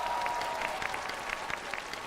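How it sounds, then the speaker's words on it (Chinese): Audience applause for a singer on a Chinese television music competition stage, a steady wash of clapping held for about two seconds at moderate level with no voices over it. "来，我们给点掌声的鼓励给到辛特。"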